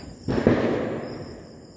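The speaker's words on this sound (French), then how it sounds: "des pétards, ils en font péter partout depuis 1 heure" A single firecracker bursts at a distance on New Year's Eve in the Philippines, one short muffled bang with a brief rumbling tail, set against a quiet night backdrop.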